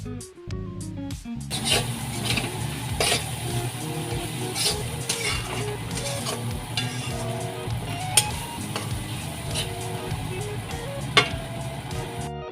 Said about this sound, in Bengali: মশলাটা কষিয়ে নেওয়ার পরে চিকেনের কিমাটা এর মধ্যে ঢেলে দিতে হবে